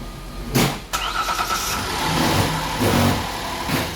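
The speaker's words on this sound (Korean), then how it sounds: "자, 이 상태에서 시동을 한번 걸어보겠습니다." A car engine cranks and catches in a workshop, with a starter burst followed by a short rev that settles into a steady idle, then a second brief rev near the end, loud and close with no talking.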